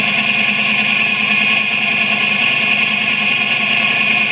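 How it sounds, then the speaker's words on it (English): A Yamaha R6 motorcycle's cross-plane engine runs steadily at idle, a continuous even drone with a bright whine on top, close by and loud, with no talking. "Oh, listen to that motor. That motor is a one-of-a-kind cross-plane engine."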